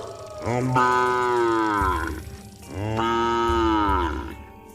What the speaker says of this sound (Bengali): গরু কোথা থেকে ডাকছে?